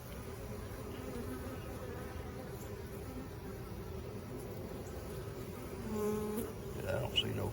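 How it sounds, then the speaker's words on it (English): Bees hum around hives in a steady, low droning swarm, constant and fairly soft, with individual buzzes passing close near the end. "There are that many bees messing around here."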